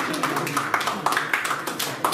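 An audience claps at a chief minister's inauguration of an education monitoring centre, a dense, even round of applause with sharper individual claps standing out now and then.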